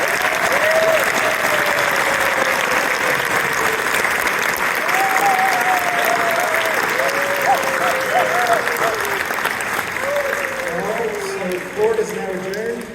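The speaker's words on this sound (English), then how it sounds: "let me give you a round of applause" Applause at a naturalization ceremony, a steady crowd clapping for the whole stretch, with a voice speaking over it and some cheering toward the end.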